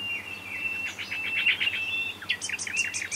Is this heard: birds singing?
yes